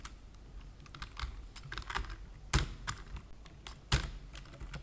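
Computer keyboard clattering as code is typed, irregular bursts of close, crisp key taps with a few heavier strikes, the pace uneven and quick, with no voices.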